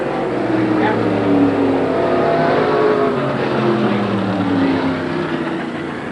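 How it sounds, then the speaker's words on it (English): Pro stock race cars racing at Merrittville Speedway during a 1989 heat, their engines droning loudly and steadily while a commentator talks over the noise. "1 car length behind her is Ricky Richter, and we've got Lettingham in trouble up on the number 2 corner."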